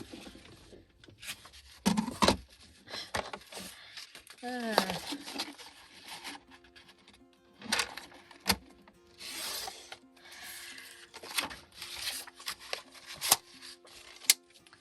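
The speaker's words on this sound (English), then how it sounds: "Let's go ahead and measure and cut this one down." Sheets of 12x12 pad paper are handled, rubbed and cut by hand at a crafting table, giving scattered scraping, rasping and crinkling bursts at close range, with quiet talking in between.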